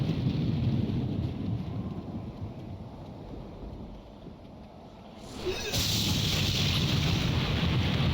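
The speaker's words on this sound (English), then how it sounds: "You mean over the thunderstorms?" Thunderstorm ambience in Clive Barker's Undying: steady rain hiss under a low rolling rumble of thunder that dips and then swells back with a sharp, bright crack of rain and thunder near the end.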